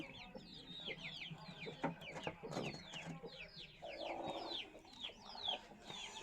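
Hens and chickens of the short nose, long tail breed on a poultry farm, with repeated close clucking and chirps from several birds, some soft background movement and brief low voice-like sounds.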